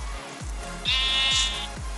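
A Minecraft sheep bleats once, a clear nasal in-game bleat heard over a steady background of rhythmic low thumps.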